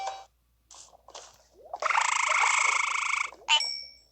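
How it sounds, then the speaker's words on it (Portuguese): A deformed frog mob in Minecraft croaks in short, chirpy calls that build into a longer raspy, buzzing croak near the middle, followed by a sharp final chirp. The calls are clear and close, with no talk over them. "O sapo deformado pode ser encontrado na Floresta Distorcida."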